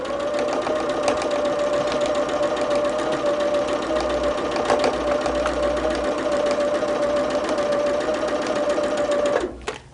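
A sewing machine stitches a quilt seam at a steady, continuous hum with a fine rapid needle rhythm, close and even, stopping abruptly near the end.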